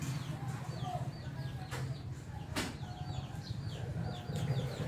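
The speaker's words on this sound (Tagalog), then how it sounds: "Ngayon naman sa mga manok inaagawan nila na pagkain." Backyard chickens squabbling over feed, with repeated clucks and short calls scattered over a constant background hum, other birds chirping faintly, fairly distant and moderately quiet.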